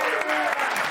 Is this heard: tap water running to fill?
no